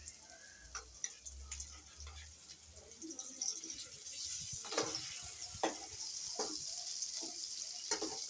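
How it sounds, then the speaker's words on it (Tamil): Sweet potato fries in a pan with a steady high sizzle, broken by scattered ticks and utensil clicks, faint and close. "ஃப்ரைடே இந்த கண்ணக்கிழங்கு வறுபட்டுருக்கு"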